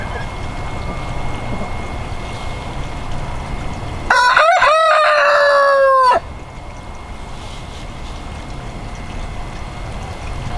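A rooster on a five-acre homestead lets out one loud, close crow lasting about two seconds, over steady clucking from the chickens and a continuous background wash.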